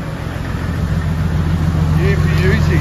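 Converted 1HD-FTE diesel engine idles steadily up close with a deep, even rumble, showing a check engine light, while faint voices sound in the background.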